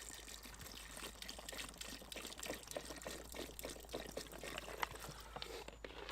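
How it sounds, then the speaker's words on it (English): Water pours into a bucket of boilies as a soft, steady splashing trickle, fairly faint and continuous, with no talk. "Put them into a bucket and then cover them with water."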